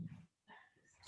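A pet dog makes brief whimpering and yipping sounds close by during an indoor dog yoga session, with a short silent gap between bursts.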